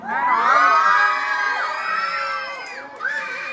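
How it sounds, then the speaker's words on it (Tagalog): A barangay crowd at a beauty pageant night erupts in loud cheering and high-pitched shouting, sustained whoops and screams that dip briefly before surging again. "Wala rin ho bang hiyawan dyan?"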